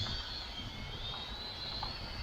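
A YLR/C E99D WiFi FPV LED toy drone lifts off and flies with a steady, thin high-pitched motor whine close by, holding an even level throughout with no talking.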